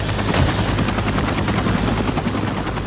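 A rescue helicopter runs loudly and steadily up close, its rotor and engine noise a continuous heavy drone that fills the whole stretch without a break.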